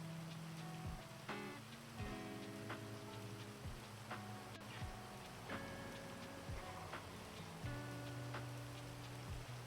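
Rain patters steadily across a roleplay video game world, a constant wash of drops on surfaces with no talk, while scattered tonal game or music sounds ring out over it.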